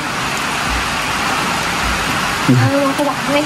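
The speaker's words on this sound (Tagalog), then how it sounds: "malakas ang ulan, oh" Steady heavy rain hisses throughout, with a voice speaking briefly near the end.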